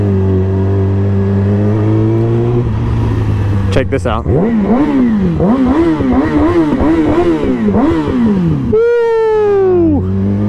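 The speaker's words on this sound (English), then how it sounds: "being on a bike with the engine rumbling right underneath you, woo-wee, sounds immaculate" A motorcycle engine revs at a stoplight, rising and falling in a series of throttle blips after a steady idle rumble, close and loud, with a person whooping and talking over it and a sharp tonal sweep near the end.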